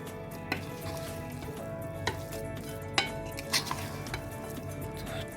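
Chicken pieces are stirred and tossed with masala for Chicken 65 in a pot or bowl, giving soft wet rubbing and mixing with a few light clinks against the vessel over steady background music.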